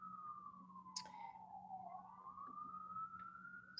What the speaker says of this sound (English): there are lots of sirens going today.